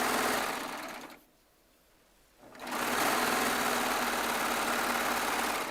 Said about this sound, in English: It's trimming off all my thread tails from where I was piecing.